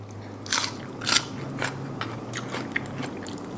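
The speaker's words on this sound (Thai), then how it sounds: "อันนี้พริกเผาเหรอน้องแพทกรุบกรุบ" Crisp crunching bites come in several distinct bursts, close and fairly quiet, as someone chews giant cockles with a roasted chili dipping sauce, with no talking.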